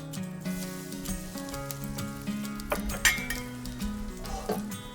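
Garlic sizzles in hot oil in a covered wok skillet off the heat, a steady close crackle with a few light clinks of metal partway through.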